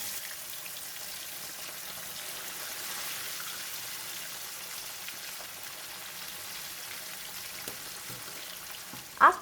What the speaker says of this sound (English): the oil is very hot and ready for deep frying. Carefully put in the fish